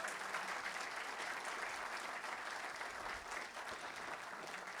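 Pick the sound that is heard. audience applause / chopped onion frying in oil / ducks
audience applause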